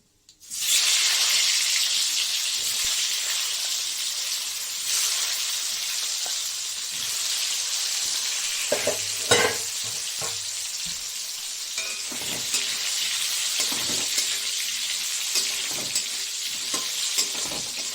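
Potatoes and cumin seeds fry in hot oil with a loud, steady sizzle that flares up as they go into the pan, with occasional clinks and stirring scrapes throughout.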